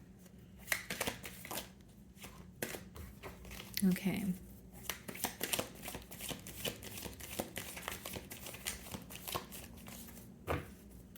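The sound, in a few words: shuffling a deck of tarot cards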